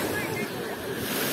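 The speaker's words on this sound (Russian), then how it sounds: "Морская волна." Black Sea waves wash on the shore near Veselovka in Krasnodar Krai, a brief broad surf rush mixed with wind buffeting the microphone.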